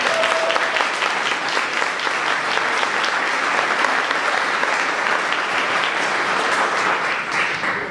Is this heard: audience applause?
yes